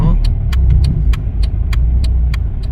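A Mercedes W212 creeps forward slowly under parking assist, its engine a low steady rumble, while sharp ticks recur at a regular beat, about three each second, over the drone, close and loud.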